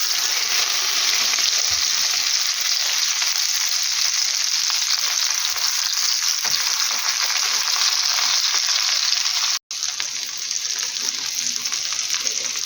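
Chicken breast cutlets sizzle in a pan over medium heat, a steady close-up frying hiss that runs throughout with a brief dropout near the end.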